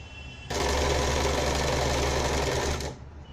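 A sewing machine stitches the side seams of a satin tank top in one continuous fast run of about two seconds, loud and close, starting and stopping abruptly against a quiet room.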